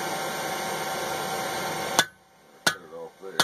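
Steel being cut off while forging hand tools: a steady loud roar from a forge or machine stops abruptly, then a few sharp, ringing metallic hammer strikes sound up close.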